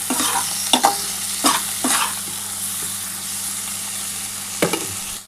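Onion and tomato frying with a ginger-garlic paste in a pan, a steady sizzle broken by several sharp scraping stirs near the start and one near the end, close and fairly loud with no talking.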